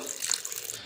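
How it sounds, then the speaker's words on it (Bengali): Water poured into a pressure cooker holding jackfruit pieces, a steady close splashing stream lasting under a second with no talk. "এবার জল দিয়ে দেব"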